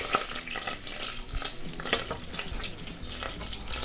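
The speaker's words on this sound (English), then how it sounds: "Butter is melted and foamy, in goes the garlic." Minced garlic sizzles in melted, foamy butter in a pan, a steady close crackle with soft stirring scrapes throughout.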